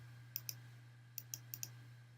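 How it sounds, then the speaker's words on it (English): Six sharp mouse clicks while working on a toolbar in 3D modeling software, falling in two loose clusters over a low steady hum, close and fairly quiet. "So I'm clicking with my left mouse on the toolbar."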